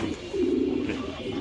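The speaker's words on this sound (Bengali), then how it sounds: "এখানে কিছু বাচ্চা কবুতর আছে ঘরের।" Damascene pigeons at a pigeon farm coo in a low, steady murmur, close and continuous with no talk over it.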